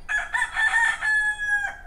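Roosters crow at dawn in a long, loud, close cock-a-doodle-doo that holds a ringing note before trailing off, heard alone.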